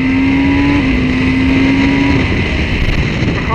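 A 2023 Kawasaki ZX-10R superbike's engine on a race track gives a loud, steady drone that holds one pitch, then dips slightly and carries on without a break.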